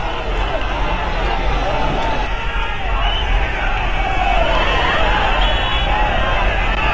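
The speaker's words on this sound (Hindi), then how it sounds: "गली गली में राहुल गांधी के लिए भीड़ दिखाई दे रही है" Street crowd gathered along the lanes for Rahul Gandhi's roadshow in Varanasi. A dense, steady babble of many voices and general commotion carries on loudly and evenly throughout, with scattered higher tones rising above it.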